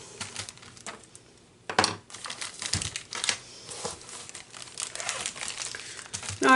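Paper wrapping crinkles and crumples through a picture unboxing, with dense rustling bursts and sharper tears rising and falling close by, and no talking.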